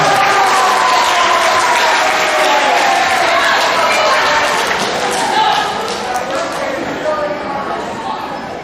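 A school audience at a middle school awards assembly applauds honor roll students with loud, sustained clapping that fills the room and tapers slightly toward the end.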